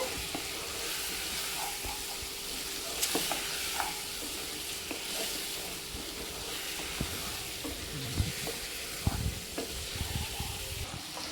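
Chicken masala is sautéed on a low flame, a soft continuous sizzle beneath repeated scraping and stirring strokes, with occasional louder knocks of the spoon against the pan.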